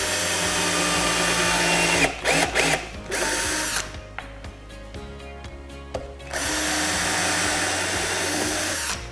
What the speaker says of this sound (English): we're going to put screws on the side